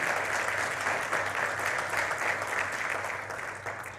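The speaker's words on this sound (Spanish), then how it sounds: "Eso merece un aplauso, bendito el Señor." A church congregation applauds, a dense and steady clapping that holds for several seconds before starting to fade.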